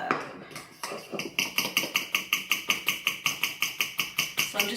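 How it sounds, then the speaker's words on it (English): Whisk rapidly beating pancake batter with melted coconut oil in a bowl, a steady run of quick, evenly spaced clinking strokes, close and fairly loud, with no talking. "I'm just going to whisk this to a nice batter."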